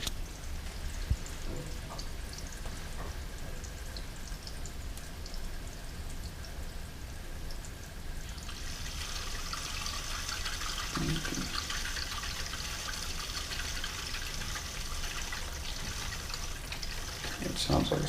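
Water runs into under-counter filter housings as they fill, a steady close hiss and trickle that grows fuller partway through, with a voice speaking over it.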